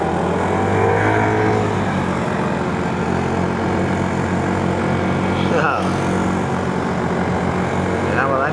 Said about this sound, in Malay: Enjin Nova ni saya dengar bunyinya sama macam motor depan saya ni.